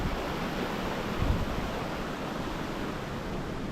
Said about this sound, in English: Sound of water is always so relaxing.